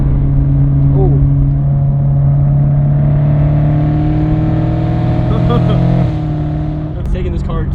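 An old-school BMW E30 is driven hard, its engine droning loud and steady from inside the cabin with a sustained whine that shifts pitch, as voices talk over it.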